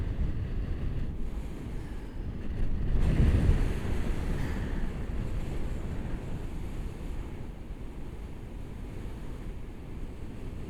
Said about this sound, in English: Now it's a bit windy, admittedly, but I've got my visor down.